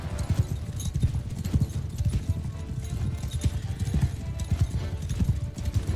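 Horse hooves clip-clop steadily through a Mount & Blade II: Bannerlord battle, a dense continuous rhythm of many mounts moving together, with a faint whinny and some background voices.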